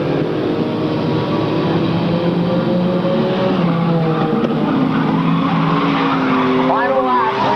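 Race cars roar around a short oval track at a 1998 race meeting, engine notes rising and falling continuously with faint tire squeal near the end, heard under a commentator's steady play-by-play.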